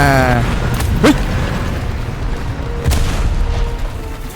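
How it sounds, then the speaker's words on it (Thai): Explosions in a shooting video game, where a large target survives gunfire; two sharp booms burst out around one and three seconds over a loud, constant rumble of game noise. "เออโดนระเบิด"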